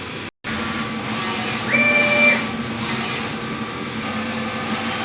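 A DTF printer at shop runs its head clean and nozzle test: a steady mechanical hiss and whir with a thin high whine rising briefly near the middle, after a sharp cut at the start.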